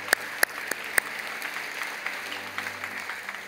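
A church congregation claps in welcome, beginning with a few sharp claps and settling into soft, steady applause that fades toward the end.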